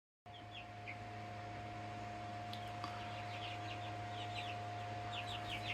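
Chickens cluck softly inside a homestead chicken coop, faint intermittent calls over a steady electrical hum and background noise.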